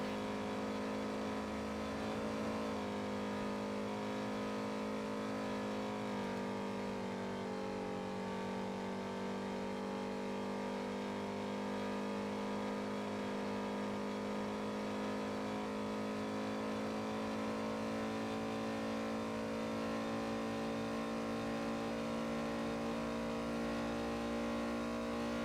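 A car engine in GTA V on the NoPixel roleplay server runs continuously at high speed, a steady droning roar with slight pitch shifts throughout, fairly quiet and with no talking.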